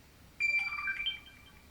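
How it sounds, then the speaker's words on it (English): A phone rings once in a short, bright electronic trill, clear against a quiet room and quickly cut off. "let me get rid of this annoying ass phone"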